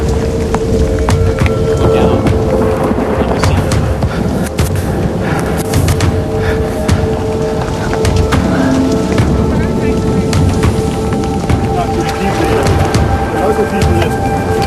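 Heavy rain and rumbling thunder from nearby lightning strikes during a storm at a camp, a loud, continuous wash of storm noise with low booming throughout.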